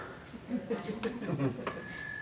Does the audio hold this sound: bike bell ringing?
yes